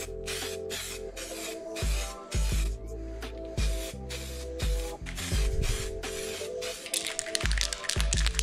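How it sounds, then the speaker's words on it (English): Weld-through primer hisses from an aerosol spray can in a series of short, rhythmic bursts, close and steady, while prepping a Nissan 240SX S13 core support. "Gonna do some weld through primer right now."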